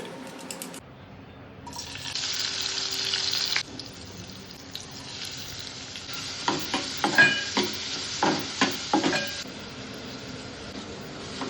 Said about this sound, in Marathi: त्यामुळे मी एका स्पॅच्युलाच्या मदतीने हे मिश्रण आता ढवळत राहते